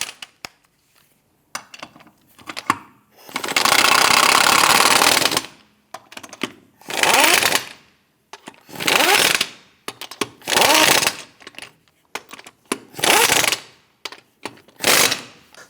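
Power impact tool on the lug nuts of a 2008-2013 Nissan Rogue after front wheel bearing and hub replacement, in repeated loud bursts of rattling hammering, one long run followed by several shorter ones separated by quiet gaps.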